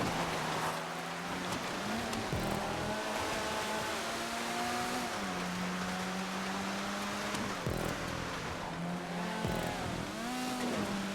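Cars race around a track in GTA 5, including a stock Silvestre and a Retinue, with engines holding a steady drone and repeatedly shifting pitch up and down through gear changes under constant race noise, with no talk.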